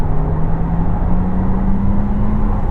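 Inside a 2021 Porsche Taycan electric car as it accelerates, a loud, steady road and motor hum carries a synthetic tone that climbs in pitch and then steps like a gear shift.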